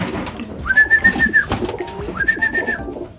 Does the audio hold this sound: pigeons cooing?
yes